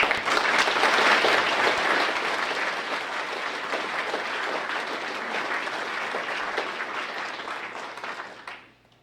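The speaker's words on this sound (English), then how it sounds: "let's give them a round of applause" Applause fills the room for a graduating ROTC class at a spring commissioning ceremony at Boise State, a dense, steady ovation from a large audience that holds for several seconds before fading out.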